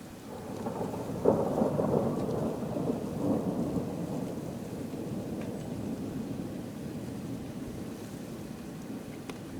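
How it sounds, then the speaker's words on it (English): A low, deep rumble of thunder rolls through a Chicago blizzard snowstorm, swelling early and then fading slowly into a long, dull roar, distant and fairly soft, with no talking. "Thunder, snow."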